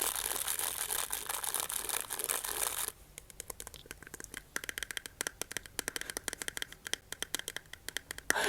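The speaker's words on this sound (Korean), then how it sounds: "누가 핸드폰 타이핑하고 있는 거." Close, quiet tapping: a run of light, irregular clicks like fingertips on a phone screen, following a stretch of soft rustling noise.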